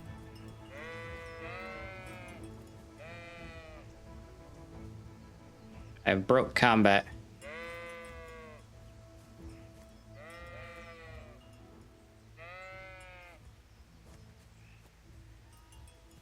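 Sheep in Kingdom Come: Deliverance bleat repeatedly at a moderate distance, a string of separate wavering calls spaced a second or two apart, with a short sharp rustle midway and someone speaking quietly now and then.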